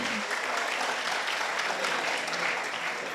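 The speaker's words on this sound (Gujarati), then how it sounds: "તમારા તાળીઓથી અમને સમજશે કે તમને મજા આવી રહી છે કે નહીં" Dense, steady applause from an audience at a ghazal recital, many hands clapping together without pause for the whole stretch.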